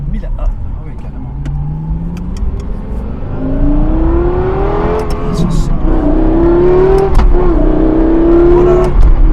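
A Lexus LFA engine revving and accelerating, a loud rising whine that climbs in pitch through several gears, heard from close up with people talking over it.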